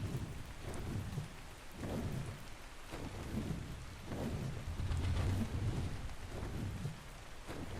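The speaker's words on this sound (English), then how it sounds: "Oh, no, it's just a lightning storm." A thunderstorm in the video game ARK on the Scorched Earth map, a steady hiss of rain with deep rolling rumbles of thunder rising and falling throughout, quiet and spread wide, with no talk.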